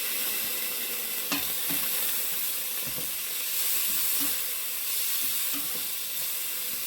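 Garlic and scotch bonnet pepper sizzle with bell pepper in a pan, a steady frying hiss with a few soft stirring knocks, fairly quiet and with no voices.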